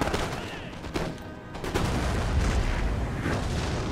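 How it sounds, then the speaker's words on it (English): Massed artillery fire on a battlefield in Empire: Total War, a dense, continuous rumble of overlapping booms and cracking volleys that swells louder through the second half. "Massed artillery."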